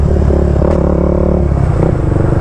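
Honda CB 300 motorcycle engine revving hard while riding at high speed, a loud, close, rough drone with a brief rise in pitch midway and wind noise underneath.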